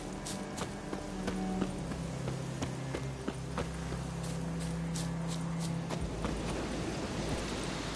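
Horse hooves clip-clop at a steady walking rhythm in a PS4 video game, close and continuous over ambient game sound and a low drone, no talking.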